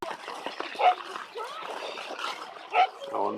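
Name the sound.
dog barking near an ice rink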